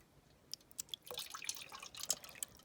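Water trickling and dripping inside a 3D printed BMG miniature flushing toilet, with a series of light, close, faint drips and splashes spread irregularly over a few seconds.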